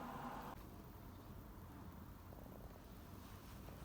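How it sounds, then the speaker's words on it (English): A cat purrs very faintly and steadily, close but quiet, a soft continuous rumble in a quiet room with no talk. "His purr's so cute."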